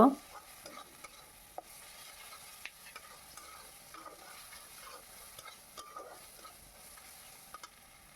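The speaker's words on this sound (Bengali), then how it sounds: "রসুনটাকে দিয়ে ভালো করে নেড়ে চেড়ে ভেজে নেব" Garlic paste is stirred and fried in a pan for a Bengali gulsha tengra fish dish, with a soft, low sizzle under repeated light scrapes and taps of the spatula.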